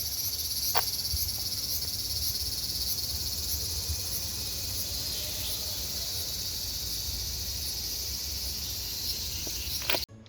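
Cicadas drone in a continuous high buzzing chorus outdoors in Japan, loud and unbroken with faint clicks scattered through it, cutting off abruptly at the very end.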